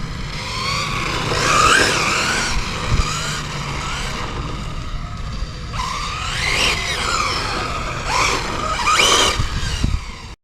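A Traxxas 4TEC VXL budget on-road RC speed car drives close by, its electric motor whining up and down in repeated bursts over tyre squeal and skidding against steady road noise.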